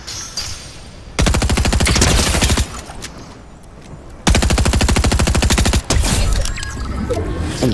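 Automatic weapon fire in the video game Fortnite, two long, loud, rapid sustained bursts of evenly spaced shots separated by a short pause, followed by scattered single cracks and softer distant firing.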